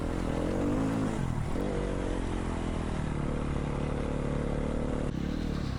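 A Husqvarna dirt bike engine drones steadily while riding up rocky Rocky Gap Road, a continuous loud motor hum with slight shifts in pitch and a brief dip near the start, no voices.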